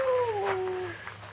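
A small dog gives one thin, high whimper that slides downward in pitch and fades within about a second, heard close and fairly quiet.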